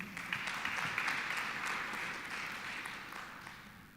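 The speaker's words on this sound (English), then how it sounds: "let's give a round of applause to our presenter one more time" Audience applause for a presenter closing a machine learning accelerators session at the ISCA 2024 computer architecture conference: steady, fairly faint clapping from a room that slowly thins out over four seconds, with no talk.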